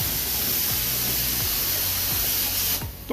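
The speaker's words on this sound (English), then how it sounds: "he's going to spray the spray lat on now, the strip spray lat" A continuous hissing spray of liquid sign stripper from a nozzle onto an embossed sign face, loud and steady, cutting off abruptly near the end.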